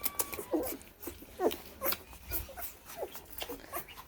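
A litter of chubby puppies eating, with soft squeaky whimpers and small yips scattered over wet munching and shuffling close by, no talk.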